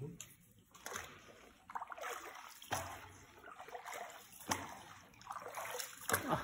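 Water splashes and trickles near rocks along a river in Cagayan Valley, several irregular splashes rising and falling under people talking nearby, faint and close.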